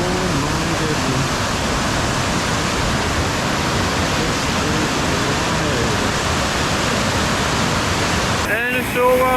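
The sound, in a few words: raging waterfall at Hopewell Rocks, Bay of Fundy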